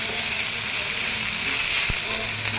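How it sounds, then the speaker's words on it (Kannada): Fenugreek leaves for palya sautéing in a hot pan for mente kadubu, giving a steady close sizzle and hiss throughout, with one brief stir knock near the end. "ಮೆಂತ್ಯ ಪಲ್ಯ ಹಾಕಿ ಚೆನ್ನಾಗಿ ಬಾಡಿಸ್ಕೊಂಡ್ಬಿಟ್ಟು"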